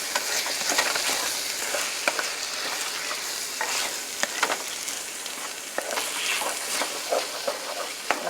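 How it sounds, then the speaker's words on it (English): Diced tomato sauce stirred and scraped in a big saucepan, a constant bubbling sizzle with irregular scraping clicks of a utensil along the bottom of the pan, and no voices. "get all that goodness up from at the bottom of this pan"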